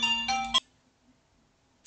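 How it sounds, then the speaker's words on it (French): A telephone rings indoors with a bright, tonal electronic trill. The ring stops abruptly after about half a second, and a short burst of the ring returns at the very end, close and clear. "le téléphone a sonné"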